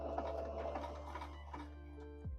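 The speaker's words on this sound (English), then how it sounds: "you're going to want to back stitch, and this will secure your seam so that it doesn't fall apart" A sewing machine back stitching a seam runs with a faint, even mechanical whir, then slows and winds down near the end.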